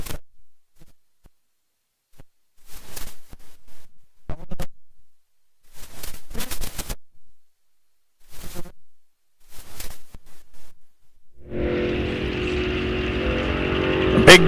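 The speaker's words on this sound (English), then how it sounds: "Big Dodge gonna get there first. 11-11 at 121 miles an hour. Saw a supercharger." A supercharged big-block Dodge drag car launches and roars down the strip at a raceway fall drag event, a loud sustained engine blast near the end after quieter stretches with a commentator talking.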